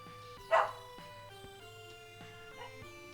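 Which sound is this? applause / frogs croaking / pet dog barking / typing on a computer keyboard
pet dog barking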